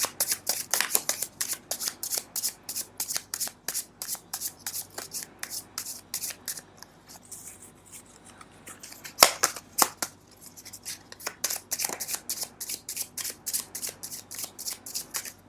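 A deck of tarot cards is shuffled close up in quick, rhythmic riffles and crisp flicks, steady bursts with a brief softer lull midway, no talking.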